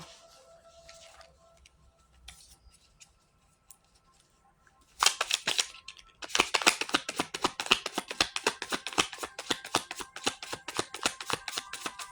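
Tarot cards being shuffled: a few faint taps and rustles at first, then from about five seconds a loud, steady run of rapid crisp riffling clicks continues to the end, with no talking.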